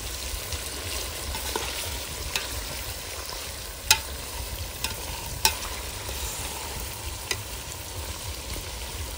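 Chicken and mutton being stirred in a hot pot over a wood fire produce a continuous, close sizzle, with scraping stir sounds and a few sharp clinks of the utensil against the pot.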